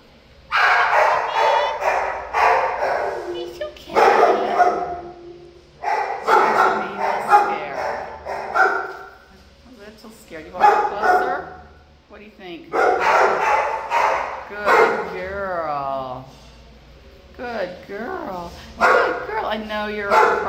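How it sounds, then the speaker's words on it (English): A big dog at an animal shelter barks repeatedly nearby in loud bursts with whimpers and yips between them, while someone talks softly over it. "I know you're across from a really barky big guy."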